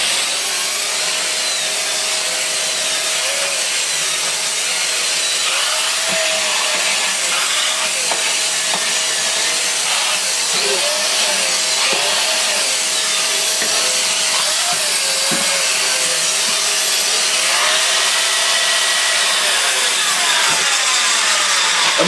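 A Dyson DC54 Cinetic vacuum cleaner runs with its turbo tool fitted, giving a loud, steady whine with a wavering tone and rough brushing noise that holds for the whole stretch without talk.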